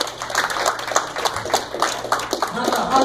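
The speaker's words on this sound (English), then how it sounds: "Let's give God a big clap offering." A church congregation gives a clap offering to God, a dense burst of applause filling the room with steady claps, while voices carry on underneath throughout.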